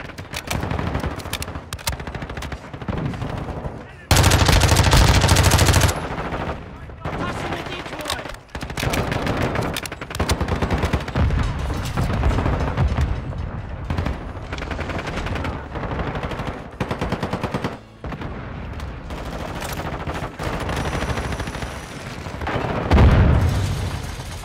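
Rapid bursts of Lachmann Sub MP5 submachine gun fire and booming shots ring out in Call of Duty Modern Warfare 2 multiplayer, loud and repeated across the whole stretch, with someone talking intermittently.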